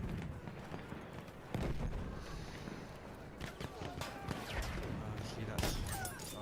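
Gunfire in the World War I shooter Battlefield 1, with scattered bursts and single shots cracking at varying distances while a player talks over the action.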